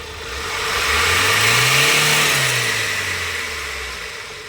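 A Hyundai H100 engine, just brought back to life after a month of cranking without starting, revs up steadily and then eases back down, a loud mid-range drone with nobody talking.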